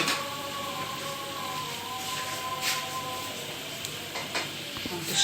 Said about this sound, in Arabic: هنحط عليها القوطه هنطشها